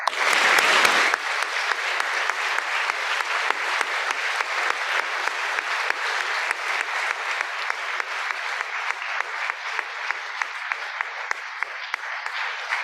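A lecture audience applauds at the close of a 2021 talk on space-time singularities, a sustained, even wash of many hands clapping that carries on alone for the whole stretch.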